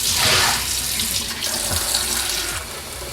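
Water runs from a kitchen tap into the tank of a Baby Brezza Formula Pro Advanced WiFi dispenser, a loud, steady splashing stream that continues for a few seconds with no talking.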